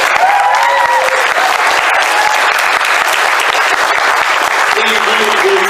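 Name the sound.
audience applause at a convention broadcast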